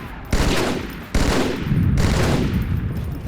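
Marines fire weapons in the Halo video game, loud sustained gunfire bursts that swell in several waves, dense and continuous rather than single shots.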